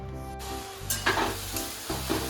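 Khichdi frying in a home kitchen gives a steady hiss, broken by a few louder sizzling surges as it is stirred, close by and with no talking.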